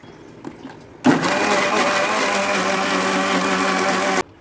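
A mixer grinder jar whirs steadily while blending a chilled homemade ice cream mixture, starting abruptly and running at an even, loud pitch for about three seconds before cutting off.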